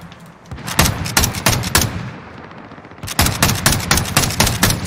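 Light machine gun fire in the video game Call of Duty: Warzone, loud rapid bursts of shots with a short pause between two long strings, close and dominant.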